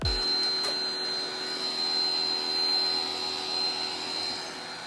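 A Ryobi 1800 PSI pressure washer sprays foam onto a Tesla, giving a steady, close, loud motor hum and hissing rush with a thin high whine that runs throughout without a break.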